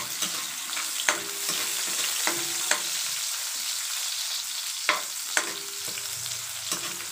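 Mussels and thinly sliced ginger stirred in a hot pan, a continuous close sizzle punctuated by several sharp clacks of the spatula against the pan at irregular intervals.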